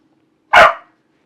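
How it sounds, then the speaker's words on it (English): A dog gives a single sharp, loud bark at a cat, brief and close, with a faint steady hum running underneath. "that's the dog barking at the cat"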